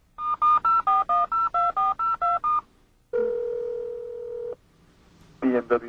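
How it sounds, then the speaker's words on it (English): A BMW integrated cellular phone in a 1998 BMW 7 Series automatically dials emergency roadside assistance: a quick run of about ten evenly spaced touch-tone beeps, a pause, then a steady ringback tone, and a brief burst of tones at the end. "The integrated cellular phone will automatically call the BMW Emergency Call Roadside"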